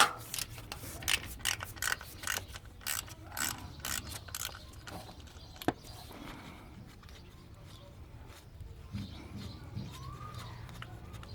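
Ratchet wrench clicking in rapid bursts while loosening the idler pulley on a Ford Falcon XR6 engine, close and fairly loud with brief pauses between runs of ratcheting.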